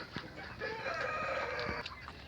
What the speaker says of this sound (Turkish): Yavru hindilerimizin odası da burası.